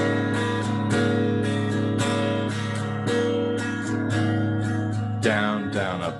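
An acoustic guitar strums a repeating down-down-up rhythm without stopping, a steady close-up pattern of bright chord strokes with no talking.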